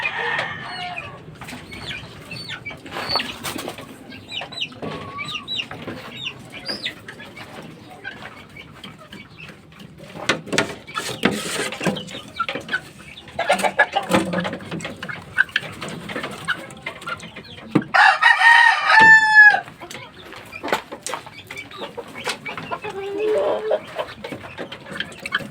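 Gamecock fighting chickens clucking and crowing in a yard, a busy mix of close clucks and chirps with a loud crow near the end, while people talk at times.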